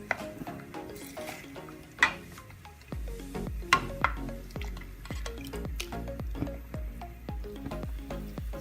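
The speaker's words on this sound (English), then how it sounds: "So now the soup is boiling." A pot of Filipino chicken tinola soup boils on the stove, its broth popping in quick, irregular bubbling bloops, close and fairly quiet, with an occasional faint clink of the pot.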